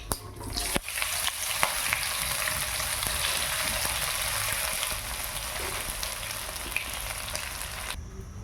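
Spinach muthiya dropped into a hot tempering of sesame seeds and curry leaves, a loud, dense crackling sizzle that bursts in after a clatter and holds steady for several seconds before cutting off, with no talking.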